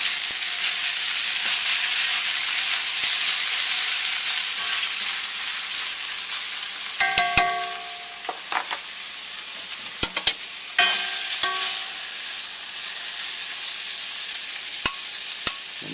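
Instant ramen stir-frying with pork, shrimp and vegetables in a wok gives a loud, steady sizzle throughout, broken by a few sharp metallic scrapes and clinks of a utensil against the pan, with no talking.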